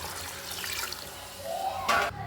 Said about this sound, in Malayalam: ഇനി നമുക്കിതിലേക്ക് കുറച്ച് വെള്ളം ചേർത്ത് കൊടുക്കാം